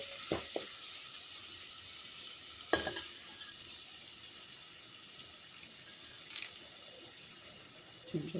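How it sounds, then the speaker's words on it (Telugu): Chole curry being stirred in a pan, with soft scraping and stirring noises over a faint steady sizzle, broken by a few sharper clinks of the spoon against the pan. "మంచిగా కలుపుకోవాలి అంతా కలిసేటట్టు"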